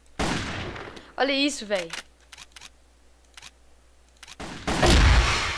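Sniper rifle shots in the shooter game Crossfire, a few sharp cracks spaced apart and mixed with game effects, with someone talking over the start and excited voices around them.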